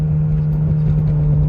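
A Mitsubishi Evo X with an SST gearbox, held in second gear, gives off a steady low engine drone with a firm hum and faint rumble. The noise stays even and close throughout, with no clear shift or rev change.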